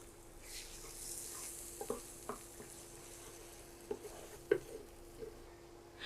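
Eggs and onions fry quietly in a pan, with soft sizzling and occasional light stirring clicks and taps.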